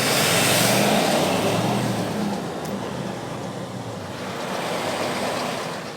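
A loud wind system blows air steadily onto the front of a reel, a broad continuous rushing roar that swells and eases slightly with no pauses.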